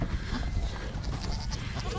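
Show goats on a farm bleating, with many overlapping animal calls forming a dense, steady din close by for the whole stretch.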